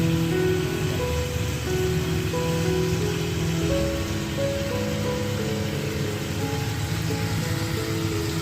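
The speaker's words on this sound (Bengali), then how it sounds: "মশলার মধ্যে চিকেনটা দিয়ে এবার ভেজে নিচ্ছি।" Chicken fries in spice paste in a home kitchen, a dense steady sizzle and crackle of oil running close and continuous throughout, with no talking.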